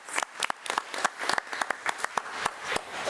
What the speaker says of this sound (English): let's give Ms. Gonzalez another round of applause